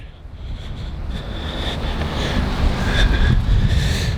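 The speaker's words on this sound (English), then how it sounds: "Hopefully the audio is pretty good, because I know that it's about 11 mile per hour wind" Gusty wind buffets the microphone at a riverside park on the St. John's River at sunset, a continuous roaring rush that swells slightly louder toward the end, with no one speaking.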